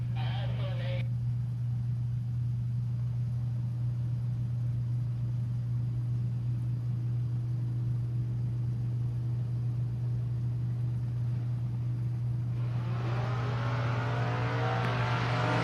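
Chevelle drag race cars at a drag strip: a loud, steady engine drone holds throughout, with a rising rev surging in near the end.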